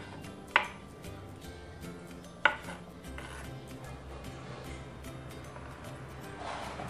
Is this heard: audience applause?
no